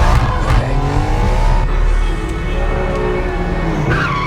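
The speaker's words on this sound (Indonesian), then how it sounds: "Wan melarikan diri dengan menggunakan sebuah mobil yang berwarna hijau dan sedang melakukan aksi kejar-kejaran." A green car races in a film chase scene, its engine roaring loud and steady with revving and tire noise, close and dominant for the whole stretch with no speech.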